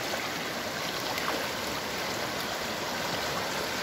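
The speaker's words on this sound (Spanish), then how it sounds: "este pequeño brazo ahora se ha convertido en un gran afluente de agua" The flooded Lempa river rushes in a dense, steady roar of moving water, broad and unbroken throughout, with no voices.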